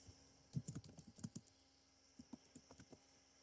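Keys on a computer keyboard are tapped in quick, irregular bursts of soft clicks as a street address is typed into an online sign-up form, with a short pause between the bursts.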